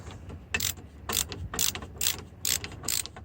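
Bolts being unscrewed with a ratcheting tool while fitting a Weboost OTR antenna on a Travato 59K camper van, giving six evenly spaced bursts of sharp metallic clicking, close and moderately loud with no talk.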